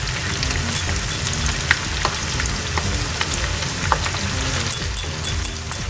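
Ginger goes into a pan of frying anda ghotala (spiced egg), giving a close, crackling sizzle broken by repeated sharp spatters and light stirring knocks.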